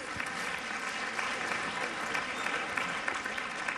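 Applause at a fashion show during the 2017 Jeux de la Francophonie: a crowd claps in a dense, even wash that stays loud and unbroken from start to finish.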